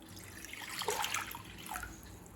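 Water is poured into a cooking pot before potatoes are boiled, a short, splashy gush that swells in the middle and tapers off, with no talking.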